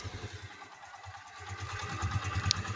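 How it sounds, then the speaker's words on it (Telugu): Hero Karizma R motorcycle idling after a full restoration, a steady low rhythmic thumping beat, close and fairly quiet, with a faint click near the end. "ఇది ఒకసారి మీకు ఇంజిన్ బీటింగ్గా వినిపించేస్తాను,"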